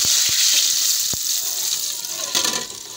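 Garlic tadka sizzling and crackling as it is poured into cooked masoor dal, a loud steady hiss with a few sharp pops near the start.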